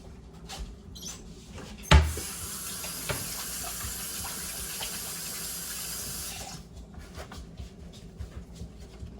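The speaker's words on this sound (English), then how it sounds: "Now I must wash my hands." Hands are washed under a running kitchen tap: a knock, then a steady stream of water for several seconds before it shuts off, with faint clatter around it.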